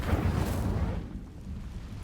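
In the Hogwarts Legacy video game, an Incendio fire spell is cast: a deep, booming burst that roars at first and then fades into a low rumbling tail over about two seconds.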